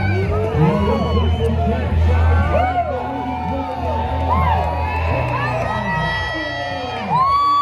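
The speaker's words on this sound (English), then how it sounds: "Everyone was cheering and clapping." A crowd cheers and shouts at the pre-dawn 4 a.m. start line of the Leadville 100 trail race, a loud, continuous mass of voices with whoops and calls layered over a steady low rumble.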